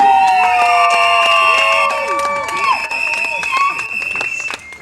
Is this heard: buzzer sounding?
no